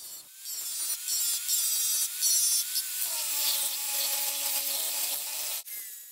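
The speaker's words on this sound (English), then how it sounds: "I switched over to a flap sanding disc to smooth out some of the edges and give a nicer finish" A flap sanding disc on an angle grinder smooths the edges of a Vulcan anvil in a home shop, a steady loud abrasive whine with shifting pitch as the disc works the steel, running continuously before cutting off near the end.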